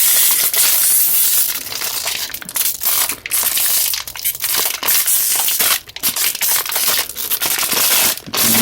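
A sticker pack is torn open and handled, giving loud, continuous crinkling and crackling of foil packaging in close bursts with brief pauses between them.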